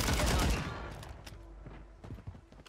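Gunfire in Call of Duty: Warzone, a loud burst of rapid shots at the start that fades into scattered fainter pops and footstep-like thuds in the background.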